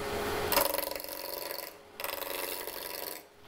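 Maple burl pepper mill blank spinning on a wood lathe while a roughing gouge trues it up, giving a steady raspy cutting hiss with two brief pauses between passes.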